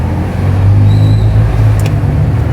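A bus passing close on a road after rain, a loud low engine rumble with a swelling drone that holds for a couple of seconds before easing slightly.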